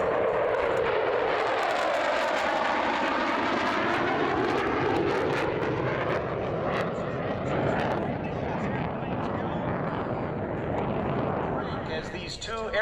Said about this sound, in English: Here come the Strike Eagles in a tactical formation.